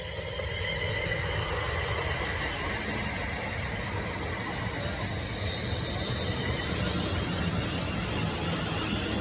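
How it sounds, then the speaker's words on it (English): A London Northwestern Railway Class 350 electric unit, 350-126, running the Birmingham New Street to London Euston service, passes on the West Coast Main Line at Tile Hill with a steady, loud, close rumble and roar throughout. "the final train of the day is going to be the 2055 London North Western Railway service from Birmingham New Street to London Euston"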